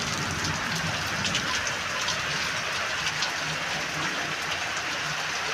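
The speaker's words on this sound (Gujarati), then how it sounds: "ચોક્કસ ચોક્કસ વરસાદ આવે છે" Steady rain pours down outdoors, a dense, even hiss with scattered drops pattering on surfaces, continuous and fairly loud with no voices.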